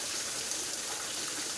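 Steady broadband rushing of a waterfall in a sacred grove near the Amburameshwara Swami temple at Sattepalli, Vikarabad, heard as a continuous hiss of falling water with no voices.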